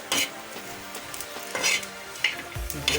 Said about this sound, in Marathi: ओमकार मस्तपैकी आता कांदा भाजून घेतोय आहे बघा